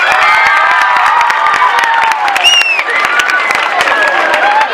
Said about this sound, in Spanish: un bon aplaudiment fort!